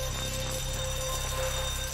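A bank alarm rings steadily and loud during a robbery in GTA V, a continuous electronic tone with no pause and no talk.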